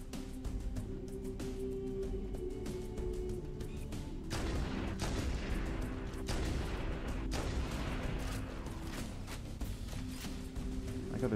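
Dense, continuous gunfire from a Halo game battle aimed at a Warthog vehicle, rapid overlapping shots and booms rattling steadily throughout, loud and busy with no pauses.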